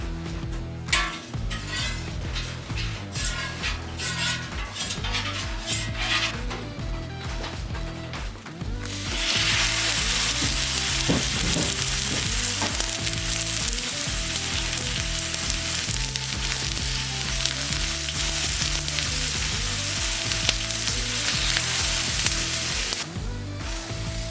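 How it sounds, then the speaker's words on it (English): Seasoned venison backstrap sears in olive oil on a ripping hot Blackstone griddle, a loud steady sizzle that flares broader and brighter partway through, with occasional clinks and scraping of utensils. "We're gonna throw some olive oil on this ripping hot Blackstone and sear it hard until it's medium rare"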